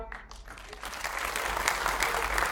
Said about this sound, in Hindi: मैं चाहता हूं एक बार जोरदार तालियां।